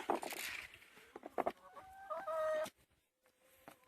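Chickens cluck and squawk close by, a busy cluster of calls ending in a drawn-out crowing note, then near silence.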